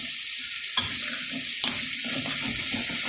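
Food fries in hot oil in a pan, with a steady sizzle and a couple of sharp clinks of a utensil against the pan.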